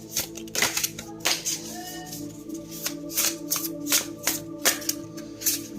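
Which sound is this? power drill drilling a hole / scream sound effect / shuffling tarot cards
shuffling tarot cards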